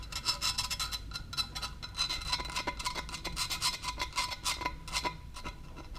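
Paint being gently scratched off a Malossi RC-one kick-start cover, a soft continuous rasping and rubbing with quick repeated strokes, close up and quiet.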